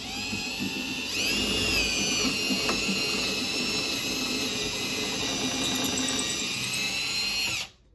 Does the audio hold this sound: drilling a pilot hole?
yes